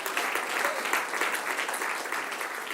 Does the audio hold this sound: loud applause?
yes